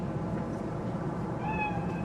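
A cat in Cyberpunk 2077 gives a single clear, fairly close meow over a steady background hum.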